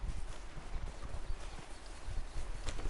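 Hooves clip-clop from a horse in the video game Red Dead Redemption 2, a continuous low, muffled patter of steps over faint background noise with no talk.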